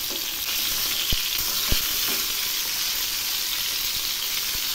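Pieces of chitol fish fry lightly in a crowded pan, a loud continuous hissing sizzle with a few sharp pops and spatters scattered through it.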